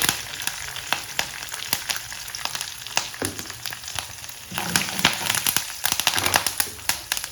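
Dried red chillies, curry leaves and asafoetida hit hot oil, crackling and spitting loudly with sharp sputters and pops that swell midway, up close with no speech.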